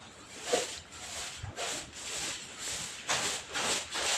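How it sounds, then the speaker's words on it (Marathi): A broom sweeps a floor in steady, soft scratchy strokes, about one every second, faint and close with no talking. "इकडं पहिलं हे सगळं झाडू मारून घेतो"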